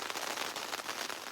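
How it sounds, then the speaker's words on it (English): Steady rain drumming on a tent during a wilderness canoe trip, a dense, even patter close overhead with no gaps and no voices. "it's raining pretty good now"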